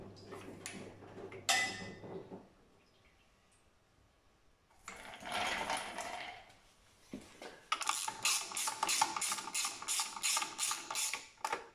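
A ratchet tightens a 21 mm bolt on the front suspension wishbone of a Renault Megane 2, giving fast, close, evenly repeated clicking bursts after scattered metallic clanks and a quiet pause.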